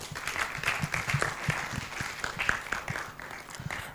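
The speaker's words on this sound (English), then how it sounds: "Give them a round of applause." Audience at a pro-life, family-friendly side event applauding, a dense continuous patter of many hands clapping at moderate volume for a few seconds.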